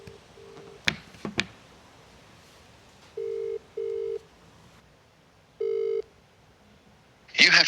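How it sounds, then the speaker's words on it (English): A phone ringback tone sounds during an outgoing call, with short tone bursts and then a clear double-ring cadence of two steady beeps, a pause and another beep, over faint handling clicks and background noise. "So we're going to give the human Keel a call now and let him know."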